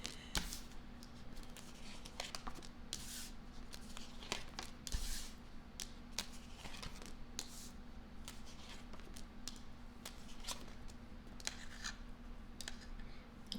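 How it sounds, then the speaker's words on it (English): A deck of playing cards being shuffled by hand during a card reading, a steady run of papery riffles and soft flicks with sharper snaps scattered throughout, fairly quiet and close, with a low steady hum underneath and no talking. "they said stop in the shuffle where I was shuffling and take 6"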